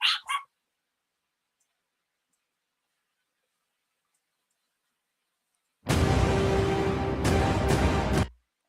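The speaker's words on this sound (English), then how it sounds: "Now the dogs are going crazy." After a brief yelp and a long silence, a burst of loud, close dog barking and noisy commotion runs for a couple of seconds.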